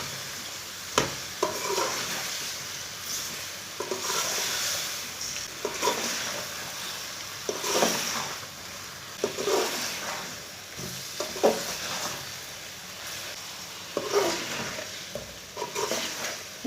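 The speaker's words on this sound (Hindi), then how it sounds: "गोभी डाल के इसे 3 मिनट तक भून लेना।" Half a kilo of cauliflower fries in a pan over medium heat for aloo gobi, giving a steady moderate sizzle with repeated stirring scrapes and clinks every couple of seconds, no voices.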